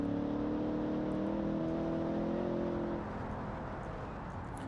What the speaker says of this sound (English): So let's give a bit of a listen to the engine.